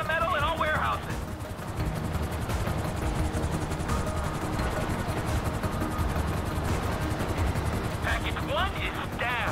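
Two helicopters close in within Grand Theft Auto 5, their rotor drone dense and steady throughout, with bursts of gunfire mixed in and talk over the top.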